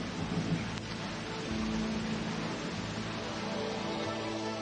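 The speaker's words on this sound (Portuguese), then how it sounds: "Nem mesmo a tempestade que se aproximava." An approaching rural thunderstorm: steady rain hisses throughout beneath low rolling rumbles of thunder, with no voices.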